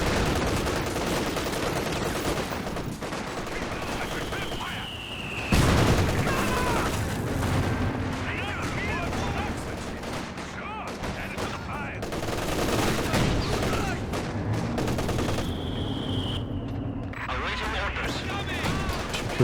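Dense rolling artillery barrage in Company of Heroes 2 combat, repeated booms and gunfire layered over battlefield noise with a whistling shell, loud and continuous under someone talking.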